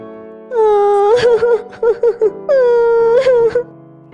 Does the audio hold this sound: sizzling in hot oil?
no